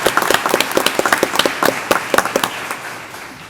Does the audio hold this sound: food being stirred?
no